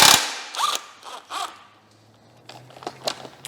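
Ratchet wrench clicking as it loosens the crank bolt on a Mazda MX-5 engine during cylinder head removal, a few close bursts of ratcheting with quiet pauses between.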